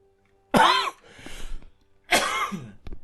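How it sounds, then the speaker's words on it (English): Two harsh, loud coughs close by, separated by a brief pause with softer breathy noise between them. "Bit of a cough there."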